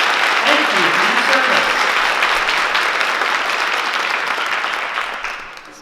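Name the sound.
audience applause for veterans and service members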